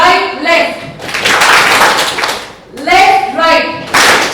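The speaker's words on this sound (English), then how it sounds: "can you also clap your hands now in accordance with the beat?" A group claps hands in rhythm during a brain-health talk and demonstration, with sharp claps in uneven bursts mixed with voices calling out the beat.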